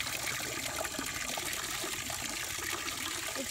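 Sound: hose water running into pigs' trough

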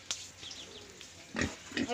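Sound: pig grunting

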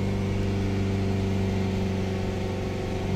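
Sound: Ford Transit minibus engine idling

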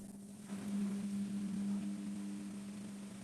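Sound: washing machine pumping out water

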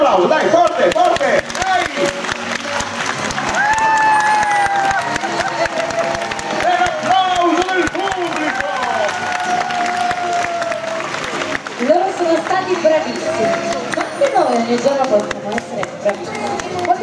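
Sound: audience applauding loudly on signal at dolphin show

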